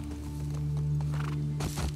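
A horse's hooves clop and snort in the video game The Last of Us Part II, over a steady low hum, a short burst of movement near the end.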